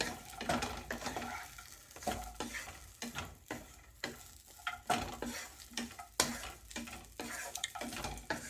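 A seasoned mixture of cut idli pieces fries in a pan while a spatula stirs steadily, producing continuous close scraping and clinking over a soft, constant sizzle, with no voices.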